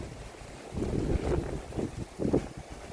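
Wind gusts through a backyard garden with an avocado tree and climbing beans, a low rumbling buffet against the microphone that swells and fades in uneven surges.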